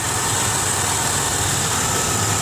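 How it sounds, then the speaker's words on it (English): A 2003 Ford Windstar mobility van with a V6 engine and 248k miles idles smoothly and steadily, a close, even low hum with a faint high whine running without break. "it's got the V6 Ford engine. It's got the brand new battery in it. Seems idle smooth."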